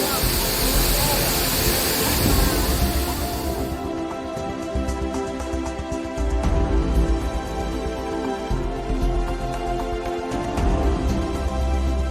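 The Sarasah Siguntur Tua waterfall in Pesisir Selatan, West Sumatra, roars with a steady broadband rush of falling water that is loud and continuous from start to finish. Tonal music plays over it from about four seconds on.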